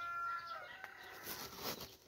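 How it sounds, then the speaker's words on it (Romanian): Roosters crowing in the morning near a Romanian apiary, a high drawn-out crow rising over the background and fading after about two seconds, heard at a moderate distance with no talk. "Insistent sunt de dimineață cocoșii."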